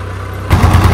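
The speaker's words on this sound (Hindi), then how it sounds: "ये ट्रैक्टर चल क्यों ना रहा" A tractor's engine comes on abruptly after a quiet moment, shifting into a loud, close, low rumbling drone with a throbbing pulse.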